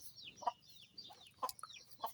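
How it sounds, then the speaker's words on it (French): Blue hens cluck softly in a poultry yard, a few short, scattered clucks over a low background hum, fairly faint and with no talking. "là il me reste plus que 7 poules bleues ici"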